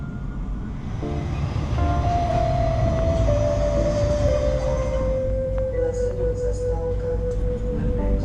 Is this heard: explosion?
no